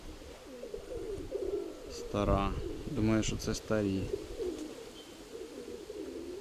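A pigeon coos in several low, throaty bursts after settling, close and clear over steady wind noise, with a voice talking around the calls.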